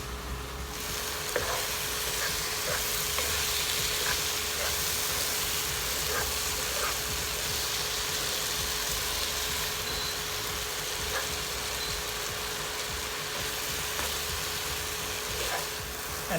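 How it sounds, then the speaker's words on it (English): Cauliflower charring and frying in a pan, a steady close sizzle that crackles evenly for the whole stretch with a faint low hum beneath, no talking. "You want to char it, and you want to fry it down really beautifully."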